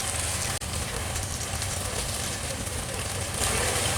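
Hilsa fish fry in a pan with coconut masala, a steady, fairly loud sizzle and crackle with a brief dropout near the start, alone without talk.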